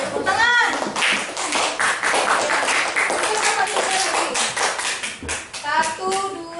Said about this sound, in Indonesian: Ya, kita kasih semangat dulu. Tepuk tangan.